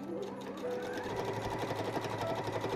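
A sewing machine stitches a fabric book sleeve with a steady, fast mechanical whir and rhythmic needle clatter, close and continuous throughout, with no voice over it.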